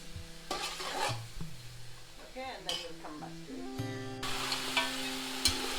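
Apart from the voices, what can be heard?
meat frying in a pan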